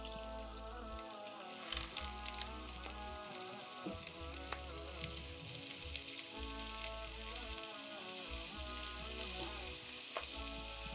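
Slices of onion fry in melted butter for French onion soup, a steady fine sizzle with soft crackles and occasional stirring scrapes, close and fairly quiet, with no talking.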